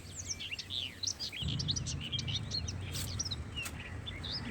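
Several birds chirp and tweet in quick, overlapping high calls over a low background rumble, moderately close and continuous throughout.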